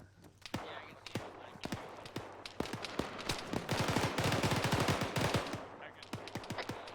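Automatic and single gunfire from ArmA 3 crackles in rapid bursts, building to a dense, sustained volley before easing into scattered shots, fairly loud and near, with players talking over it.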